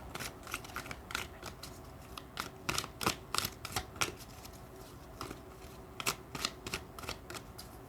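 Tarot cards laid down one after another on a surface, a run of crisp snapping flicks and taps in uneven bursts, close and fairly quiet, with no talking.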